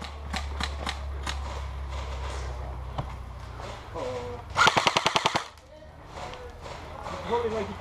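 Rapid burst of airsoft gunfire during an outdoor skirmish game, a tight run of about eight sharp cracks midway through, set against steady background noise, with players talking around it.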